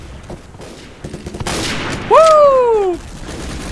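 Rapid rifle fire crackles in the Day of Defeat: Source video game, building into a loud volley while a man lets out a rising whoop over it.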